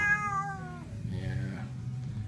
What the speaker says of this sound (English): This is our warehouse cat.